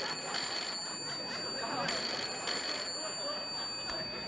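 A studio telephone rings on a late-night talk show set, its bright repeated trill pulsing steadily through the whole stretch over a busy room background.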